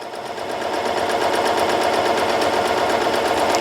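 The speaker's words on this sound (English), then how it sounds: "now I've got some stretch material that I'm going to sew through" An Elna 792 Pro sewing machine stitches through stretch fabric, a loud, steady rapid mechanical chatter that holds constant from start to finish with no talking.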